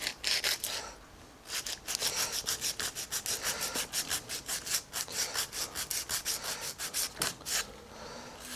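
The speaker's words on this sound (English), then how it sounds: "I shall get the sanding" A strip of 80 grit emery tape rubs by hand over metal castings in quick, steady back-and-forth strokes. The rasping runs continuously and fairly close, with a brief pause near the start.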